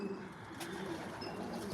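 Racing pigeons in a loft give a soft, continuous low cooing at moderate distance, with a steady murmur of birds and faint rustling throughout.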